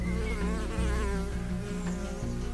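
Close, droning buzz of solitary bees hovering, the pitch wavering slightly as they move, continuous and unaccompanied.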